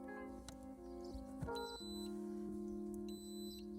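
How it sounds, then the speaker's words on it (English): A compact 16-liter mini fridge hidden in a Tesla Model Y gives steady electronic tones when plugged into the car's cigarette lighter socket. The tones are joined by higher short beeps, quiet and alone with no talk. "I'm gonna just take that cigarette lighter and plug that in first. And you're gonna hear it beep"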